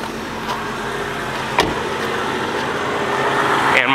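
A Jeep Cherokee XJ engine running after being started, a loud, steady idle drone held close throughout with no talking.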